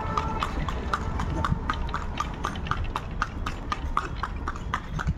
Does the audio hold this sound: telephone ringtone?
no